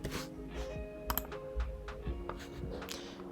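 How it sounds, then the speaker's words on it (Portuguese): Fingers tap a postal code out on a computer keyboard, a quick run of light close keystrokes with small pauses between them and a low hum underneath, no talk. "Agora eu vou digitar um CEP aqui"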